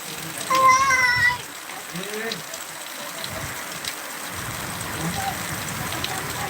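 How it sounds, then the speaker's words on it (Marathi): Heavy rain pours down in Kinwat taluka, Nanded district, as a steady broadband hiss that runs the whole time, with a brief voice near the start. "आज तुफान असा पाऊस बरसत आहे"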